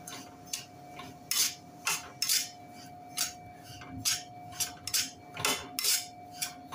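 A spoon scrapes and clinks against a pan as semolina roasts in ghee over medium gas, a series of sharp, close metallic strokes in an irregular rhythm over a quiet background.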